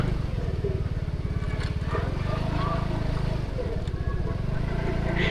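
Motorcycle engines running steadily nearby in a crowded parking lot packed with motorbikes and trucks, a continuous low throbbing drone with a faint voice in the background.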